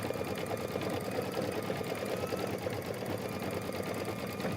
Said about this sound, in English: this just does a tack down decorative stitch on the outside of him here